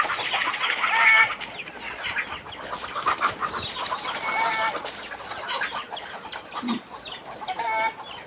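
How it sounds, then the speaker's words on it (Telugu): Country chickens cluck and squawk at a small poultry farm set in an orchard. The calls are close and continuous, with some wing flapping, and no one speaks. "ఇక్కడే ఈ కోళ్ళ ఫార్మ్ అయితే ఏర్పాటు చేశారు."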